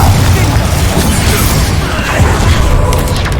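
A Confringo spell blast in the Hogwarts Legacy video game, a loud low booming explosion and rumble filling the short clip, with a voice partly over it.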